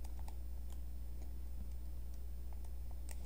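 A ratio is keyed into a calculator, with faint, sparse button clicks tapping irregularly over a low steady hum.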